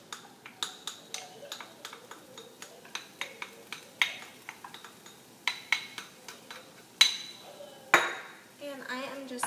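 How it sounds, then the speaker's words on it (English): Tomatoes and onions being tossed in a pan on the stove: a run of close, irregular metallic clinks and clatters, some sharper and louder, with a soft sizzle underneath. "And I am just going to give this a good toss."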